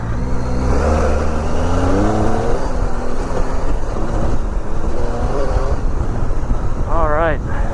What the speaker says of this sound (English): Big adventure bike tearing it through the woods for the Laurel Highlands of Western Pennsylvania